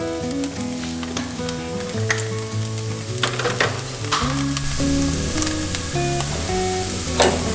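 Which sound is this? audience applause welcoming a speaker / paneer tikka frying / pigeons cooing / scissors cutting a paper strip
paneer tikka frying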